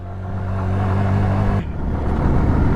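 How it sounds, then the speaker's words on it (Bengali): A Suzuki SF motorcycle engine labors uphill in first gear with a loud, steady drone. Partway through, the note drops and shifts as the load changes. No one speaks. "ফার্স্ট গিয়ারে উঠতে হইতেছে ফার্স্ট গিয়ার উঠো ভাই ফার্স্ট গিয়ারে"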